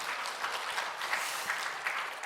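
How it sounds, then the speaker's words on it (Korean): A church congregation at a revival service applauds its teachers, the clapping soft and slightly distant, a steady wash of many hands with small swells and no voices over it. "박수."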